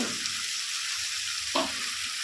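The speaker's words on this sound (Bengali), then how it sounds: "যাতে ম্যাগিগুলো একটু ভাজা হয়ে যায় তেলে" Maggi noodles with vegetables fry in hot oil, a steady bright sizzle throughout with a brief louder stir or scrape just past the midpoint, close and without talk.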